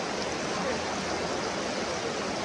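Waterfall at Ta Yai in Nakhon Nayok, cold clear water pouring in a steady, dense broadband rush, loud and unbroken with no pauses.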